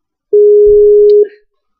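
A Skype call tone over a phone link for a radio show: one steady, loud electronic tone held for about a second, then cut off with a brief tail.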